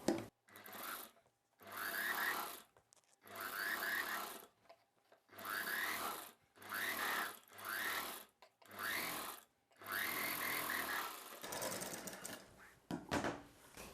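A sewing machine runs in bursts of rapid mechanical stitching along the seam of a sleeveless umbrella dress, with short pauses between runs. It stays close and fairly loud, and no voice is heard over it.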